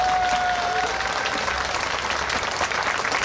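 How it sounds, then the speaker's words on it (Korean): Dense, steady applause from a crowd at a protest sit-in by grieving families near the presidential office, sustained and fairly loud throughout with no clear breaks. "우리 지금 여기에 있지 않지만 관심을 가지고 있는 분들에게 같이 한번 공감하는 마음으로 한번 박수를 칠까요?"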